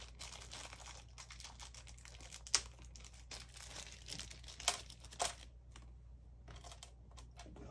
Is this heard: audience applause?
no